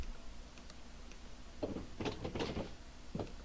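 Aircraft doors closing in Microsoft Flight Simulator, a short run of mechanical clicks and latching clunks at moderate volume over a steady cockpit hum.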